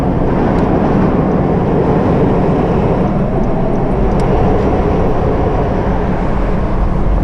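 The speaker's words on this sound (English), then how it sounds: "Sorry if you can't hear me over this train." A loud, steady rumbling roar of a passing train drowns everything out, continuous and close for the whole stretch.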